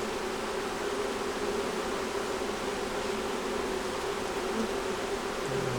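Honey bees at an open hive give off a dense, steady buzz that fills the whole stretch, close and unbroken, with no voices.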